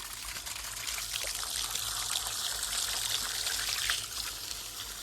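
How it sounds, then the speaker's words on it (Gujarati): Water gushes steadily from a well pipe drawing from five to six hundred feet deep, a constant splashing rush that stays fairly even throughout. "આટલું પાણી આવે છે ખૂટે જ નહીં"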